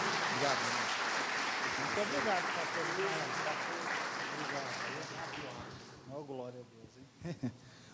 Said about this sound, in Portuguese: Você podia aplaudir ao Senhor com alegria?